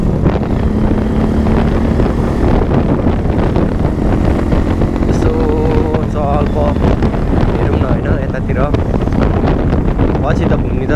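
Wind roaring into the microphone during a motorbike ride toward Sarangkot near Pokhara, a loud constant buffeting rumble that masks everything, with faint speech-like sounds buried underneath.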